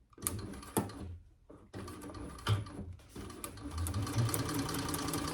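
A sewing machine stitches a fabric divided basket along a previous stitch line, running in short close bursts with brief pauses before a longer steady run near the end.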